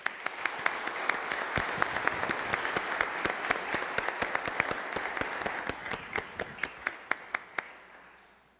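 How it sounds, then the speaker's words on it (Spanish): A church congregation at Sunday Mass applauds veterans standing among them, a full burst of clapping with a few sharp nearby claps standing out, gradually thinning and fading away at the end. "Y les damos un fuerte aplauso."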